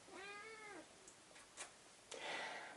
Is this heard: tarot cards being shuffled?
no